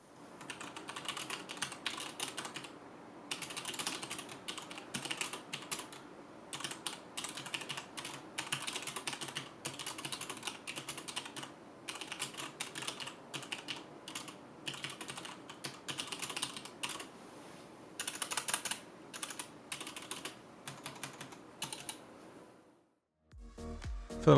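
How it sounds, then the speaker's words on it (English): Steady, fast keyboard typing with crisp clacking keystrokes in continuous bursts, close and clear, ending with a louder thump, on a HyperX Alloy Elite mechanical gaming keyboard. "for those of you that are interested in how this keyboard sounds, this is the clip for you."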